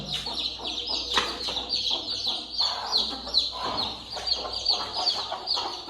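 Desi hens clucking in a brooding pen with chicks, several birds calling in close, overlapping bursts of clucks and squawks throughout, loud and near.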